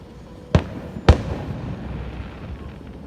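Fireworks go off in two sharp, separate bangs about half a second apart, each followed by a short rumbling decay over faint background noise.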